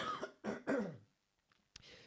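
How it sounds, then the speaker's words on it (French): A man coughs three times in quick succession close to the mic, followed by a sharp short throat noise and some faint rustling. "je viens de tousser"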